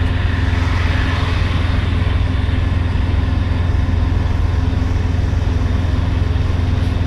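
A vehicle pushes along a road while trying to overtake a bus, its engine a loud, steady droning hum mixed with constant road and wind noise from inside the cabin.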